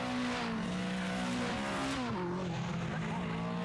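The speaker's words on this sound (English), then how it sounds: "the cars now accelerate down towards the right" TVR Tuscan race cars roar past at Castle Combe circuit, engines loud and close with pitch falling as they accelerate away, a commentator speaking over the noise.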